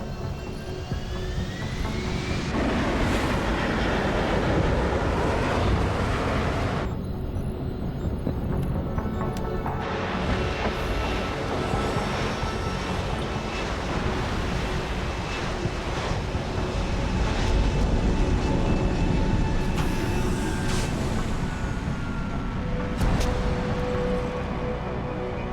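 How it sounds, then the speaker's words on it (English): An aircraft landing in the video game Deus Ex: Human Revolution, a steady loud roar of engine and rushing wind that surges and shifts in tone throughout, with no voices. "Prepare for landing."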